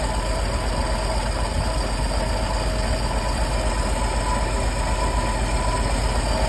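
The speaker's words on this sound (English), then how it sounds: "No smoke, no weird noises. Stay even running flathead 6." A 1953 Dodge M37 with its flathead six engine running at a steady, even idle, a loud continuous low rumble that fills the whole stretch with no voices.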